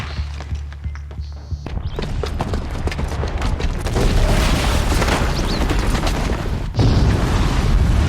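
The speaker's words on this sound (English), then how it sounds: "the booby trap on the bomb downstairs is gonna get set off" A booby-trapped bomb goes off in Horizon Zero Dawn: a loud, sustained rumbling blast with crashing debris that swells, briefly drops, then surges again near the end.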